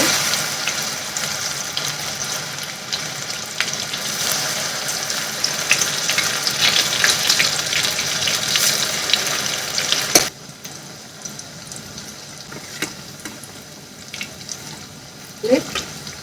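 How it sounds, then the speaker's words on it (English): Pakora batter fries in hot oil in a karai, a loud, crackling sizzle close by for about ten seconds, then dropping to a quieter bubbling with occasional clinks. "So let's start the frying."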